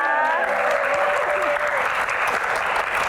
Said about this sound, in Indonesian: Sekali lagi tepuk tangan yang paling meriah